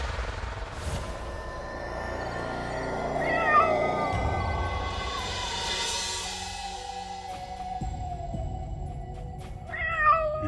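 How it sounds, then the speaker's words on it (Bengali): A cat meows at night, drawn-out wavering cries repeated over several seconds, moderately close against a low background hum, with no speech. "হঠাৎ শুনতে পেল বিড়ালের ডাক"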